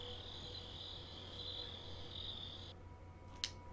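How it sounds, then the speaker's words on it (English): Crickets chirp steadily at night in one continuous high trill, cutting off abruptly near the end, followed by a brief sharp click. "catches nothing but crickets chirping under a night sky"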